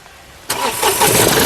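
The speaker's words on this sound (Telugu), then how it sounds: "ఇంజన్ బంద్ కరో ఎక్బార్ ఇంజన్ స్టార్ట్ కరో" A 2016 Mahindra TUV300 T8 engine cranks and catches after a quiet start, then settles into a steady, close running rumble.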